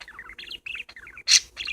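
Several quick, bright parakeet chirps and tweets follow one another in an irregular run indoors, closing with a louder, sharper squawk-like call near the end.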